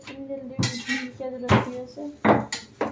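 Metal pots, pans and cutlery clatter and clink in a rapid series of sharp bursts as dishes are gathered by hand, loud and close, with no talk over them.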